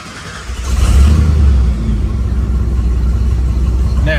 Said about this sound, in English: So let's start the truck.